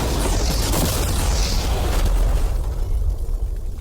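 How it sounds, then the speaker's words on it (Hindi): A powerful explosion blasts apart an ordinary passenger car in a crash-test style experiment, giving a dense roaring rumble that stays loud for several seconds before thinning into crackling debris noise. "चलो उड़ाते हैं एक नॉर्मल कार को और देखते हैं कि पैसेंजर्स बच पाते हैं या नहीं।"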